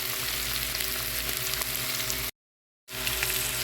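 Potatoes frying in oil with ginger-garlic paste for an aloo bhaji give a steady, close sizzle. It breaks off into silence briefly and then returns.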